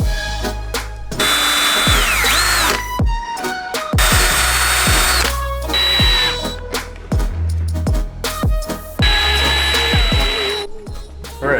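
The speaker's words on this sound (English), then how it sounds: "We can drill it right in." Power drill driving screws into a plastic speaker bracket in a Subaru front door, loud whirring bursts that start and stop repeatedly, with motor pitch winding up and down between short pauses.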